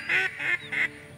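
Three quick, loud nasal honks from a duck call, spaced evenly and heard up close, blown during a retriever dog trial with no talking.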